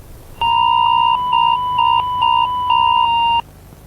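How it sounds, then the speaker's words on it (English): An emergency alert warning broadcast with a text message gives a loud, steady electronic tone that pulses several times over about three seconds and then cuts off abruptly. "warnings of the attack will be broadcast through a text message warning and sound."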